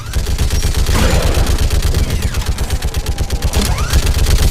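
Rapid continuous fire from a mounted gun in Mass Effect 3 Legendary Edition, a dense rhythmic stream of heavy shots with no break, loud and close amid combat rumble.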